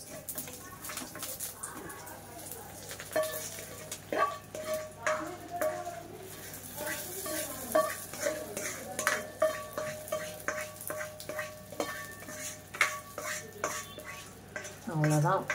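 Hot tempering is poured into coriander-peanut chutney with a brief crackling sizzle, followed by repeated spoon clinks and scrapes against a metal vessel while the chutney is stirred, close and fairly busy over a low hum.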